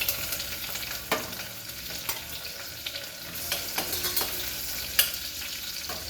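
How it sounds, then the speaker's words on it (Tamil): Onion, curry leaves, star anise, cinnamon, cloves and cardamom crackle and sizzle in hot oil as a tempering for kurma, with steady frying hiss broken by scraping stirs and clinks of a spoon against the pan. "இப்போ வந்து நம்ம குருமா தாளிச்சிக்கலாம்."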